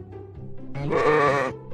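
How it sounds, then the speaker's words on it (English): A single sheep bleat rings out clearly and close, a wavering nasal cry lasting under a second, preceded by a low grunting murmur. "A sheep."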